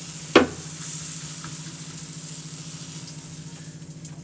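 A soft, steady sizzle hums as a methi (fenugreek) paratha roasts on a hot griddle after a brief knock at the start, with no voices.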